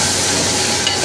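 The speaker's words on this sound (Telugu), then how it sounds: "అల్లం పేస్ట్ ఇది బాగా వేగాలి" Ginger paste fries in oil in a pan with a loud, dense, continuous sizzle heard close up, with faint scraping from stirring and no voices.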